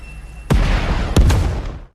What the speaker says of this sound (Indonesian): Tank tersebut langsung melepaskan tembakan ke arah pasukan Conniff.